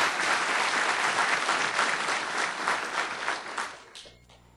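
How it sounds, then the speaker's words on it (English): A university mathematics graduation ceremony audience gives a sustained round of applause, dense and steady clapping from many hands across the hall that fades out near the end. "So I think he deserves a round of applause."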